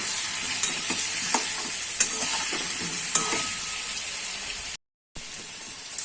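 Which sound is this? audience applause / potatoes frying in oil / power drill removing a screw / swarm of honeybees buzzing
potatoes frying in oil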